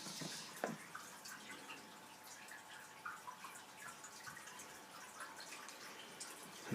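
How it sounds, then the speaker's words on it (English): Water pouring steadily into a 700-litre aquarium tank during a water change, a continuous splashing and trickling wash with a few louder drips, moderately close and without talk. "we are now refilling the tank."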